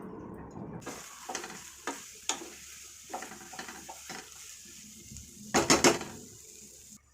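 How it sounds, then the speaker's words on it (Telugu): Ivy gourd (dondakaya) frying in oil in a pan over a low flame, with a soft sizzle under repeated scrapes and knocks of a stirring spoon and a louder clatter near the end. "ఈ విధంగా మనం దొండకాయ ఫ్రై ఈ విధంగా వేయించుకుంటూ సన్న సెగ మీద వేయించుకుంటూ ఉండాలి."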